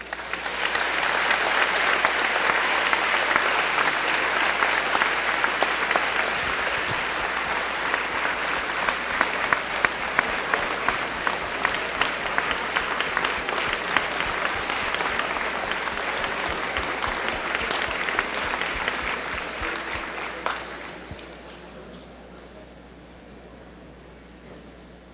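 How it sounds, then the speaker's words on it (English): Audience applause fills a high school graduation ceremony for the class of 2019, a dense, steady wash of clapping that holds for about twenty seconds before abruptly thinning to quiet room noise. "Can we please have a round of applause for the businesses and organizations for all they have helped us achieve?"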